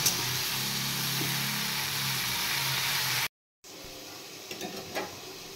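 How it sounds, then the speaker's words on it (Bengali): Panch phoron spices sizzling in oil for a Bengali vegetable curry with spinach stalks, potato, brinjal, peas and pumpkin; a steady close crackle with low stirring, then a brief drop to silence before a quieter hiss with a few clicks. "5 ফোড়ন দিয়ে দিচ্ছি"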